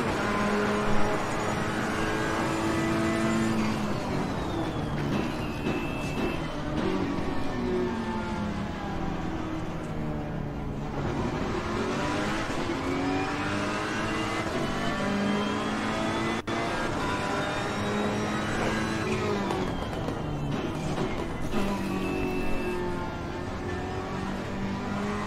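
A race car laps a circuit in Assetto Corsa Competizione, its engine revving up through the gears with rising and falling pitch sweeps and shifts, loud and continuous for the whole stretch.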